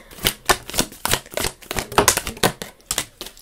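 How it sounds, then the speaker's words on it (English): Oracle cards are handled and shuffled in quick, rhythmic riffling bursts, close and crisp, about a dozen snaps in a few seconds with no talking. "I'm just going to grab the Oracle cards."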